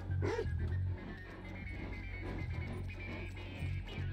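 A dog in GTA V gives a few short barks and whimpers near the start, then fades under a steady low game ambience with a tonal hum.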